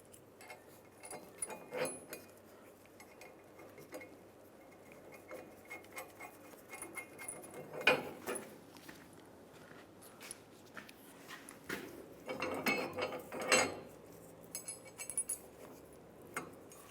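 Quiet metallic clinks and ratcheting clicks come in short bursts as a ratchet snugs nuts onto the rear leveling kit of a 2007-2013 Chevrolet Silverado 1500, with pauses of faint handling noise between.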